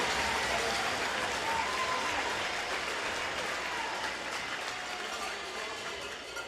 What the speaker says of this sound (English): can we get a round of applause for all 7 teams that have competed here this weekend in over 18 games?